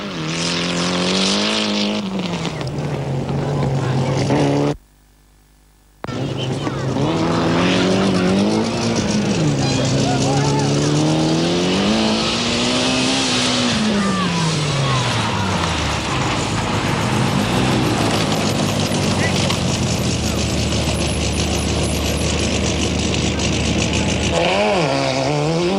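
Rally cars from the 1992 Rally of Malaysia roar through thick sand, engines revving with rising and falling pitch, loud and close throughout, with a brief gap of silence near the start and talk over the engines.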